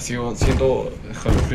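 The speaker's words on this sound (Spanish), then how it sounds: "¿Por qué suena así la puerta?" A door bangs in the horror video game The Joy of Creation story mode: two heavy, booming thuds mixed in with someone speaking loudly over them.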